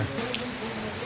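Rain falls over a village in a steady, even wash of hiss, close and moderately loud, with no talking in this brief stretch.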